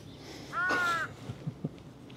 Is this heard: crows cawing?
yes